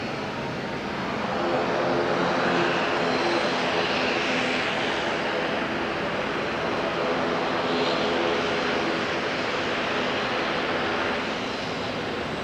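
Aircraft arriving at Auckland Airport on a flight from Tauranga, a sustained engine drone that swells slightly in the middle and then eases, heard alone without talk.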